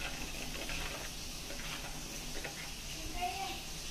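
Spices and ingredients sautéing in hot oil for besan pithachi bhaji, a steady, close sizzle with faint stirring ticks throughout.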